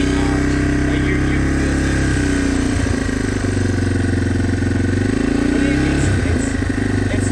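A motorcycle engine runs steadily close by with a low, continuous idling rumble and slight swells in pitch, while people talk over it throughout.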